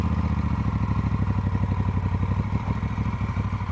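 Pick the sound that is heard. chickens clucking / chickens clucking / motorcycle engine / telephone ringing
motorcycle engine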